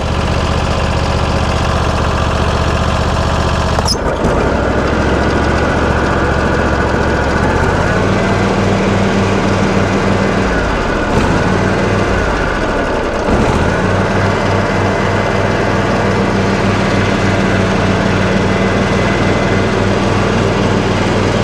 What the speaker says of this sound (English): to back up with the mower running